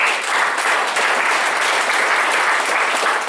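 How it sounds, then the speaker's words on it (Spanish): A church congregation claps as an offering to God, a loud, dense, continuous wash of applause that holds steady throughout. "Den una ofrenda de palmas a Dios."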